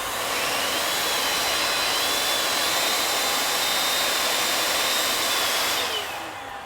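A Metro DataVac blower runs at full power five inches from a target, a loud close continuous rushing whine of air that holds steady and then tapers off slightly at the end.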